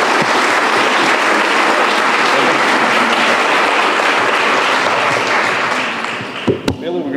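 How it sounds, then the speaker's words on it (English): Audience applause fills a conference fireside chat hall, a steady dense wash of clapping that holds loud and continuous before thinning and fading out near the end, with a couple of sharp knocks at the close. "Another round of applause."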